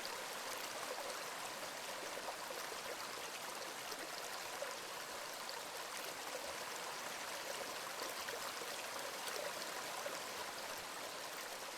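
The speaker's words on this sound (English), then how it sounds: "So I'm going to let these drain" Steady rushing, trickling water as a flooded farm drains in the game Drain Sim, a continuous broadband flow at moderate level with no talk over it.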